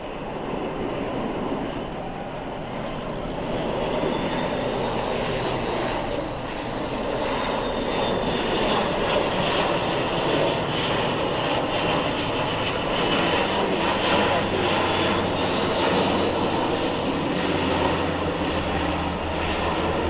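An Airbus A400M Atlas turboprop of the German Air Force flies a display at RAF Fairford, its four propeller engines producing a loud continuous droning roar that swells and shifts in tone as the aircraft banks overhead.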